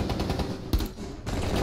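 Rapid automatic gunfire from a ranked Rainbow Six Siege match on a boat map, with bursts of close, sharp shots in quick rhythmic succession, one heavier blast partway through, and a brief pause before firing resumes.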